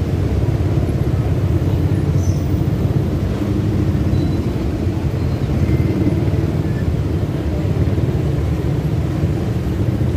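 Dense road traffic rumbles steadily throughout, a continuous low engine drone of many vehicles with no distinct horns or voices standing out.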